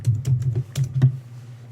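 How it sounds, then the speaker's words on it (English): Fingers tap out a quick burst of about six close clicks on a computer keyboard, then stop, loud and near with nothing else heard. "I'll do some typing"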